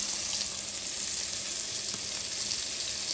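Asparagus sizzling in olive oil in a pan over low heat, a steady close crackling fry with no voices.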